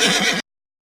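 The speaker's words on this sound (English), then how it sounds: "Horse." A horse neighs once, a loud, close whinny with a shaking wavering pitch that cuts off abruptly, with no voices.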